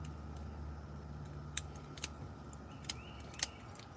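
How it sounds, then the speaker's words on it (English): Scissors snip through the rib bones of a freshly caught fish along the spine, giving four sharp, separate clicks spaced over a few seconds above a steady low hum. "so cut with scissors."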